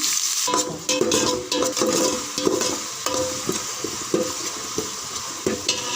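Sliced onions with mustard seeds, dal, cloves and cinnamon frying in hot oil for a mutton curry, a steady close sizzle with scraping stirs and small clatters throughout, no voices.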